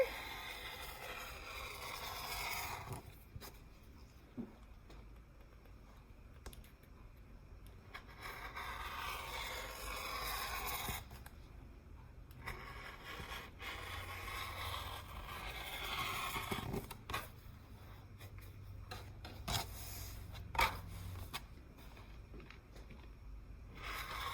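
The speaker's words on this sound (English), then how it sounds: "go ahead and freehand cut that with the rotary cutter" Fabric for a shopping bag is cut freehand with a rotary cutter: repeated soft scraping strokes and rustles close by, with quiet pauses in between.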